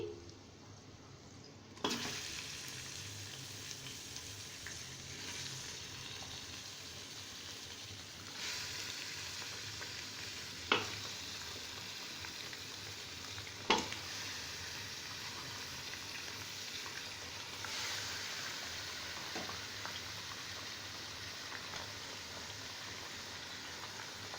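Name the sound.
mutton frying with golden fried onions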